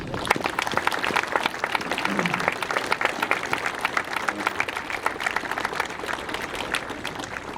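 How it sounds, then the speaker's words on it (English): A school audience of middle-school students applauds troops at a Memorial Day ceremony, with steady, dense clapping lasting throughout and a faint murmur of voices underneath. "So let's give them a round of applause"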